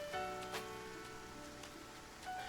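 Rain falls in the Story of Seasons: Grand Bazaar video game as a faint, steady patter beneath soft background game music.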